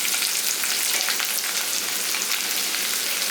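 Finely chopped onions, added after garlic while cooking a chicken curry, sizzle and crackle steadily in hot oil, a close, even, continuous frying hiss with no voices.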